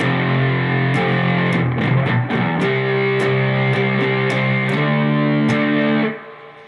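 Distorted electric guitar plays the part 2 riff at a slow pace, steady picked power chords with slides, loud and unbroken before stopping abruptly near the end.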